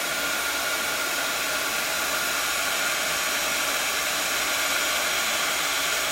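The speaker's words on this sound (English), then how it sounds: "it can take a little time, a minute or so, for your heat tool to warm up" A heat embossing tool blows hot air onto a piece of card, a loud, steady, hissing roar that stays even for the whole stretch with no talking.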